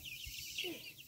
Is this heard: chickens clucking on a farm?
yes